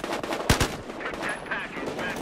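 In the Battlefield Hardline multiplayer beta, one sharp, loud gunshot cracks close by, followed by a quick second report, over steady game background noise.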